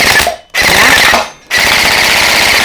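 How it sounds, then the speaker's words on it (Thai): An SLRv3.5 toy blaster in black fires in loud, rapid full-auto bursts, a fast mechanical rattle broken by two short pauses between strings of shots. "แล้วก็ทำการพร้อมยิงได้แล้วนะครับ เรายิงได้เลยนะ"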